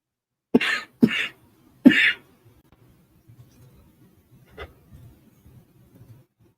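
A person coughs three times in quick succession, sharp and close, followed by quieter shuffling and a faint throat sound in an otherwise quiet room.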